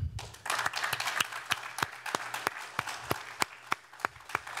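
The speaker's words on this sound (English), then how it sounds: "please join me in a round of applause for all of them" Scattered applause for student sustainability award winners at an Earth Day lecture: a few sharp, separate claps ring out in a loose rhythm over a quiet room, with a low hum underneath.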